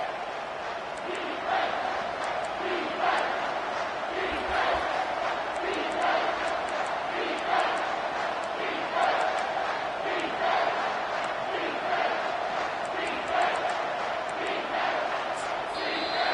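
A stadium crowd roars steadily through a late moment of a college football game between Michigan and Kentucky, a dense sustained wall of noise with rhythmic swells and chant-like pulses.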